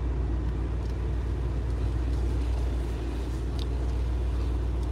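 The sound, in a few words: Mercedes-Benz G 63 AMG driving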